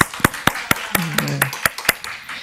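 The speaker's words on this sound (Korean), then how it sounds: "박수" A church congregation claps in celebration of a newborn son, sharp, evenly spaced claps about every quarter second, fairly close, with a short voice sounding briefly in the middle.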